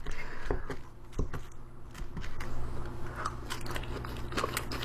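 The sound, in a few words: eating dirty fries, crunchy chewing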